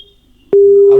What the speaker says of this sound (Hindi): अभी पुलिस कमिश्नर साहब को फोन लगाया जा रहा है लगातार, प्रणव कुमार जी को